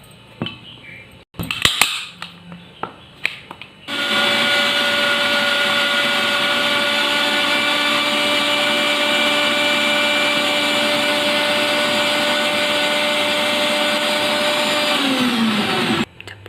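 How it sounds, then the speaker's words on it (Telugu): A kitchen mixer grinder runs steadily for about twelve seconds, blending an egg with oils into a plant tonic, preceded by a few clinks of the jar being set up; the whirring motor is loud and close with no talk. "ఇప్పుడు మనం దీన్ని మిక్సీ పట్టుకుందాం."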